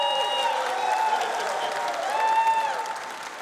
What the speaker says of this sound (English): A round of applause for our little baby line.